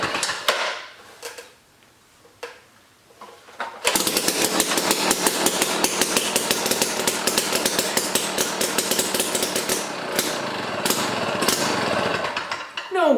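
A Jiffy Stealth ice auger's small two-stroke engine fires after a few faint pull attempts, then runs loud and rattling for several seconds, its pitch wavering before it cuts out near the end.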